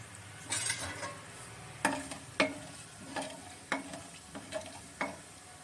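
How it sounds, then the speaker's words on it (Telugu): Ginger garlic paste sizzles in hot oil in a pan with cumin for amla pickle, a steady fry hiss broken by sharp clicks and scrapes of a spoon stirring against the metal. "ఇప్పుడు అల్లం వెల్లుల్లి పేస్ట్ వేస్తున్నాను."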